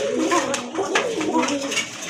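A male Koka pigeon coos in low repeated notes close by, with people talking over it.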